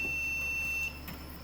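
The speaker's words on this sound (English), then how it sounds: "So we've got an ongoing long beep." A steady high electronic beep from a faulty karaoke machine holds for about a second before cutting out, leaving a low hum and faint noise behind.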